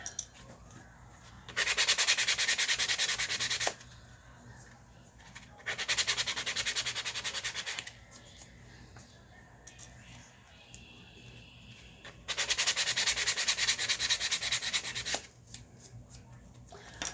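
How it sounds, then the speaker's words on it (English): Wood is sanded by hand with a sanding block in three separate bursts of brisk back-and-forth rasping, close up, with quieter handling noise between passes, on a small craft piece. "Then you get some more of these sanding blocks."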